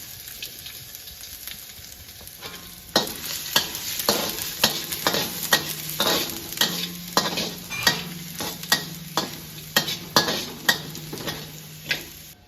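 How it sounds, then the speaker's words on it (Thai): Chopped garlic hits hot oil in a pan and is stirred, giving a sizzling hiss that starts partway in, with a steady rhythm of spatula scrapes and clinks repeating about every half second, close up. "พอน้ำมันร้อนนะคะ เราก็ใส่กระเทียมสับค่ะ ลงไปค่ะ"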